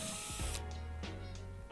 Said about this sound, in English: I'm drilling the holes for the legs